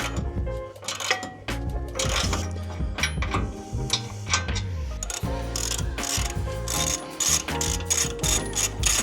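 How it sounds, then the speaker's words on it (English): Ratchet wrench clicking rapidly while removing brake caliper bolts on a Ford F-150, close and continuous mechanical ratcheting in quick repeated bursts, no talk. "And then we'll switch to a ratchet,"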